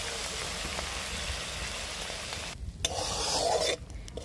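Beans and potatoes frying with spices in a pan make a dense, steady sizzle, then a louder burst of scraping and stirring near the end, close up with no talking.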